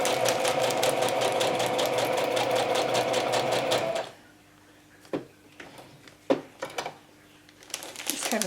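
A sewing machine stitches through vellum in a steady, dense mechanical whirr that runs for about four seconds and then stops abruptly, leaving near-silence broken by a few sharp clicks and handling knocks.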